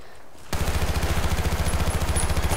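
Rapid automatic gunfire in Battlefield Bad Company 2, a loud, close, continuous burst of evenly spaced shots starting abruptly and hammering on without pause, with no talk over it.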